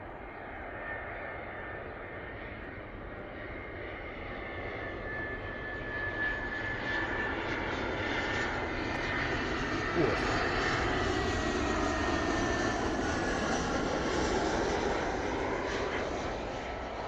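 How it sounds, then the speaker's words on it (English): Airbus A319 on approach to land at Bristol Airport, a broad jet roar swelling gradually as it nears, heard from a distance outdoors with someone talking over it. "A319 coming in from Alicante, looking absolutely beautiful in the approach here in this gorgeous sunlight here at Bristol Airport."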